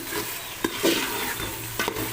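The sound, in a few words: chicken frying and being stirred with spices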